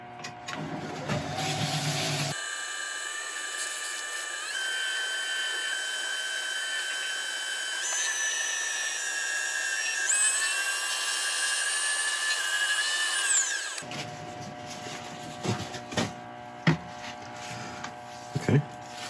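A woodturning lathe spins up to buff a finished piece, starting slow and then speeding up, giving a steady motor whine that rises in pitch over about eleven seconds before winding down, with workshop clatter around it.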